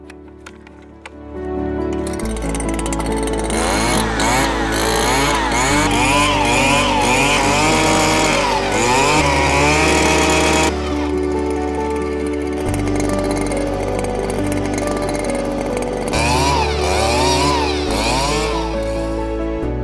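A Stihl BT 230 earth auger drills a planting hole about two feet deep. Its engine roars loud and steady close by after a quiet first second, with the pitch shifting as it bores into the soil.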